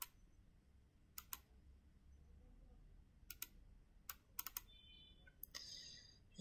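Typing on a computer keyboard while working in Excel, scattered quiet key clicks in small bursts against a faint background, with no voice.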